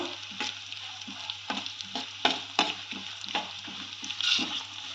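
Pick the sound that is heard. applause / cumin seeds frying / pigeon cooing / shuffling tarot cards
cumin seeds frying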